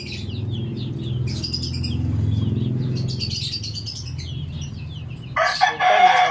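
Roosters and chickens in a backyard flock where oregano is grown, with layered clucking and bird calls under a low background rumble, then a loud, close crow bursting out near the end.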